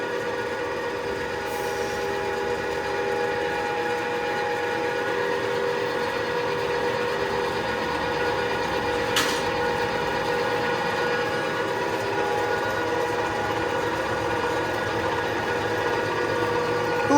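Two MP-100 and MP-200 oil presses run together at close range, a steady droning hum with sustained tonal whine and mechanical rumble that holds unchanged throughout, with a couple of brief high squeaks.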